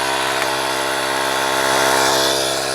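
A portable tire inflator compressor from a tire mobility kit, powered from a car's cigarette-lighter socket, runs close by with a continuous high-pitched buzzing whine that stays steady throughout, with no speech over it.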